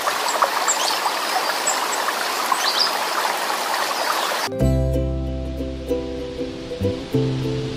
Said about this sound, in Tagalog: kundi tunog lang ng bagsak ng tubig at huni ng ibon